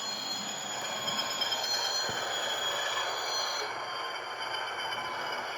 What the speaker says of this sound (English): So when I slow down, it should have some brake squeal.